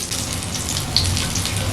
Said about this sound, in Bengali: এখন এই পকোড়াগুলোকেও একইভাবে উল্টে পাল্টে লাল লাল করে ভেজে নিতে হবে।